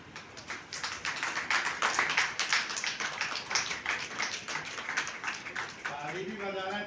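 Audience clapping during a name roll call comes through as a rhythmic run of fairly close, distinct claps, with a voice starting to speak near the end.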